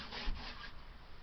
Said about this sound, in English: Wipe the cabinets down real quick.